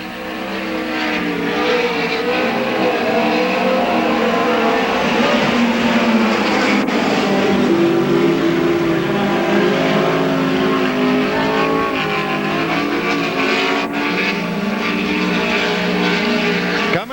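Midget race cars roaring around an oval track at the Belleville Midget Nationals, a loud continuous high-revving engine drone with pitch sweeps as cars pass, filling the whole stretch with no talk audible.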